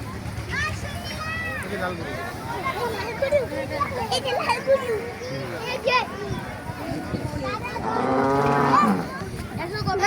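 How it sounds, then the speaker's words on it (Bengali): Cattle of local and foreign breeds low and moo at an outdoor livestock exhibition in Fatullah, Narayanganj, with deep drawn-out calls rising over a busy crowd, while children and adults chatter close by. "এখন আমি আপনাদের কিছু দেশি বিদেশি জাতির গরু দেখাবো।"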